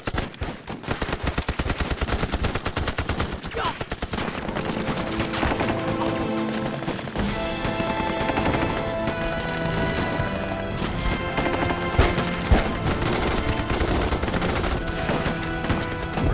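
Machine-gun fire in a battle scene, dense continuous bursts of rapid shots layered with crashes and loud impacts, sustained and intense throughout with no talk.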